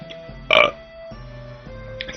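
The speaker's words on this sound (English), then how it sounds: "I just had a little bit of a burp" A single short, close burp from a man playing the game Dragon Fantasy, loud against a quiet background of steady game music.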